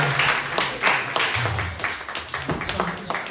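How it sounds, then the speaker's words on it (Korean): A youth congregation at a high school Sunday worship service claps in brief bursts of applause, mixed with voices talking over it. "박수로 우리 축하하도록 하겠습니다."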